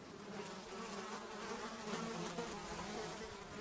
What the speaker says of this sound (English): when we were suddenly surrounded by thousands of flies.